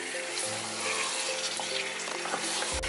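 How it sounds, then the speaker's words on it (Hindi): Chicken pieces frying in a pan for a bell pepper and spring onion curry, a steady loud sizzle with stirring and scraping, continuous and close, ending in a low knock. "रंग चेंज होने तक हम इसे पकाएंगे चिकन को।"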